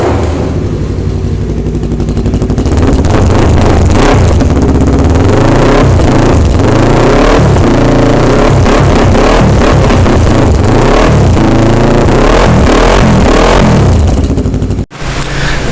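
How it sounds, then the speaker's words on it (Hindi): A loud slip-on motorcycle exhaust on a twin-cylinder Yamaha R3 rumbles and revs repeatedly, the engine note rising and falling in bursts before cutting off abruptly near the end. "अब मैं आपको इस एग्जॉस्ट की पहले साउंड चेक कराता हूँ कि how does it sound on your bike."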